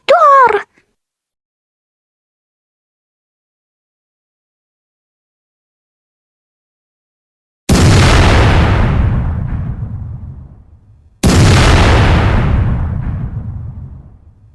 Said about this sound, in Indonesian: Waduh, barusan terjadi ledakan dahsyat.